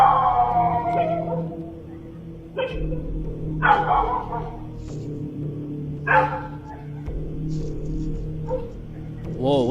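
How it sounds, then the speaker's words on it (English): Dogs bark in short bursts, then whimper and yelp, reacting to a cry, fairly close, over a steady low background hum. "you can see the dogs barking, and then as soon as they heard the cry, they started howling"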